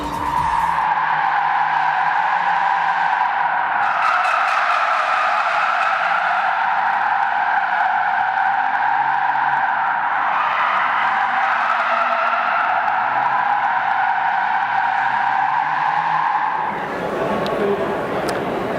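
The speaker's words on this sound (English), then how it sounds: "a pair of Mercedes AMGs driving experience day cars, doing donuts and burnouts around cones in the hall, shredding plenty of rubber" Mercedes AMG driving-experience cars do donuts and burnouts around cones inside an indoor exhibition hall, a loud continuous tyre squeal and engine roar sustained throughout, with faint crowd and announcer voices beneath.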